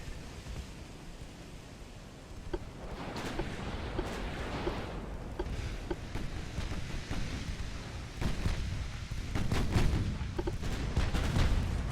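Six-inch naval guns firing in Ultimate Admiral: Dreadnoughts, scattered heavy booms and cracks over a constant roaring sea-and-battle wash, shots coming in irregular clusters, moderately loud.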